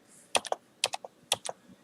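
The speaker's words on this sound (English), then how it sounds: "Now you notice as I type, you hear me typing," Quick keystrokes on a computer keyboard while a password is entered at a Linux prompt, three short clustered bursts of two or three clicks each, close and crisp with no talking.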